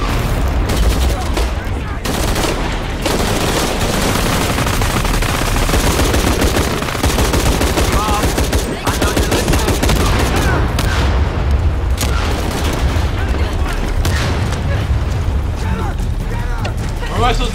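Gunfire in Shadow of the Tomb Raider, loud and dense: rapid shots and booms overlap in near-continuous bursts for the whole stretch, with mechanical clatter mixed in.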